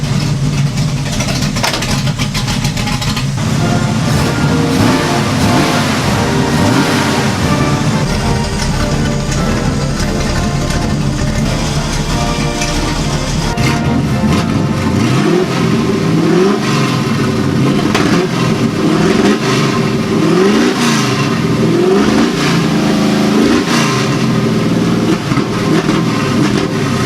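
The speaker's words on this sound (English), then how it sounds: "And if you heard when I was revving it, the revs would stay really high at some points" An old car engine that has sat for five months, running rough and revving after a very cold start, with revs surging and hanging high; loud, steady and close throughout with no talking.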